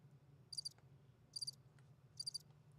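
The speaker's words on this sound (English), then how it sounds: "All I'm hearing now are crickets." A cricket chirps in three short, evenly spaced bursts of rapid trills against a quiet background.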